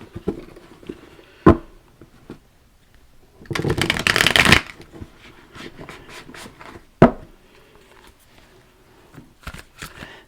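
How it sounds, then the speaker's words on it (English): A fairly new tarot card deck shuffled on a table, several crisp riffling bursts, one long loud shuffle in the middle and shorter snaps around it, close up. "This deck is kind of hard to shuffle."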